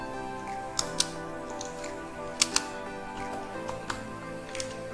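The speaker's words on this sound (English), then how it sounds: "So let me type something. Let me type my name." A computer keyboard in a Photoshop session is struck in a few sparse, quiet clicks spread across the stretch, with small pauses between keystrokes over a faint background hiss.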